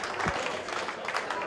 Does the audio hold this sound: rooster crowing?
no